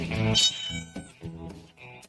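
A house cat meows several times in quick succession, close and fairly loud, the first call long and rising, the later ones shorter, with a faint voice in the background.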